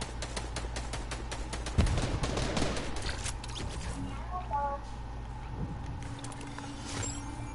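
Bursts of rapid gunfire from a first-person shooter video game, densest in the first few seconds and then thinning out, heard mid-level with people talking over it.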